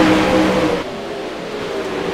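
Race cars battling on a racetrack, engines roaring loudly at close range, with a strong rising pitch at first and then a steadier, somewhat quieter drone as the cars run on.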